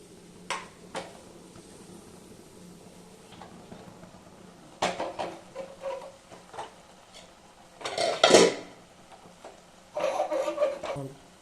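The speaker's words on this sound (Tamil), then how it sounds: "இப்போ பாருங்கள், இப்படி அடுப்பில் இருக்கக்குள்ளேயே கடைங்க." Cooked gongura leaves mashed in a clay pot on a stove, heard as scattered scraping and clattering knocks of a utensil against the pot, in irregular bursts separated by quiet gaps.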